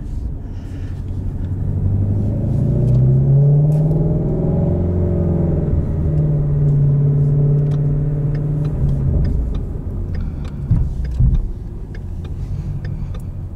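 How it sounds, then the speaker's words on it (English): A 2016 Ford Shelby GT350 runs in track mode with exhaust baffles open, a loud close engine rumble rising and falling through revs as the car accelerates, with a few brief knocks near the end. "Exhaust baffles are open."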